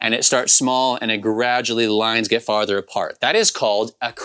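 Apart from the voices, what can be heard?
No everyday noise stands out behind the speech.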